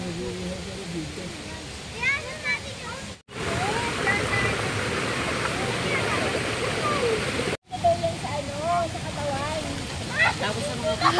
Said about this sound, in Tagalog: nandito na tayo sa ilog. Napakalinis ng tubig.